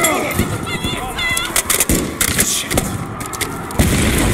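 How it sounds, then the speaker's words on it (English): Grenade explosions and gunfire in Call of Duty Modern Warfare 3, several sharp blasts and thuds in quick succession, close and loud, with shouted voices over the combat. "We're using grenades!"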